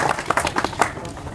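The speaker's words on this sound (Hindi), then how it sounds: "ताली हो जाएगी।" A group breaks into brief, uneven clapping to honour exam toppers during a group discussion session, the claps strongest early on and thinning out toward the end.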